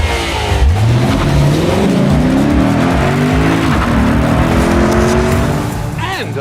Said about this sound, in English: shoehorning in one of the world's few remaining naturally aspirated V8s into its compact Lexus sedan